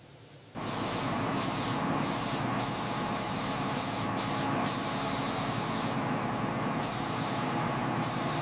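Steady close hiss of spray paint coating a cat monster truck sculpture, starting abruptly and running continuously, with brief dips in the spray between passes.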